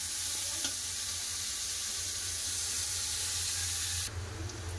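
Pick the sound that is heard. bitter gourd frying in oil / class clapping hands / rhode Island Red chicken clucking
bitter gourd frying in oil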